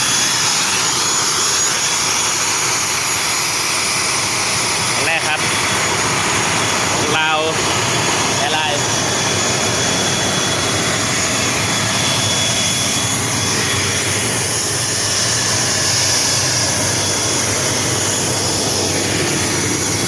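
Steady, loud engine roar and broadband cabin rush fill a Lao Airlines propeller airliner of about 60 to 70 seats during boarding, with faint voices underneath throughout.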